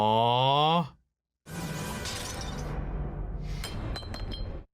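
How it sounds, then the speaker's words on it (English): Glass shattering in an animated fantasy series' season finale: a burst of bright crashing and clinking debris after a brief pause, with scattered tinkling fragments at the end, loud and close. "that's shattered now."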